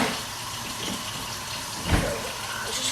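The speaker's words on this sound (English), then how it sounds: "Just rinse off the pizza cutter." Tap water runs steadily into a sink while a pizza cutter is rinsed by hand, with a soft clunk partway through the short stretch of flowing water.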